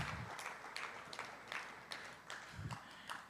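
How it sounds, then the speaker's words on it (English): Steady applause from an audience at an Ohio State Fair dairy youth awards event, a continuous wash of clapping with a few louder accents, heard at a distance and fairly faint. "So let's give those people a round of applause"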